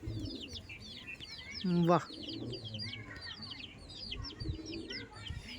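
Domestic pigeons coo softly and repeatedly throughout, with faint bird chatter nearby, while someone speaks briefly and other voices murmur in the background.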